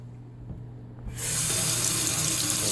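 Water from a kitchen sink tap bursts on about a second in and keeps gushing steadily, loud and close, to wash dirty potatoes.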